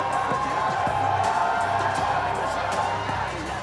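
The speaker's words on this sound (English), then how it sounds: "Let's have a round of applause" A boxing crowd at a Super Boxing League bout between Delhi Gladiators and Maratha Yoddhas roars steadily, a dense wall of cheering and applause that holds loud throughout.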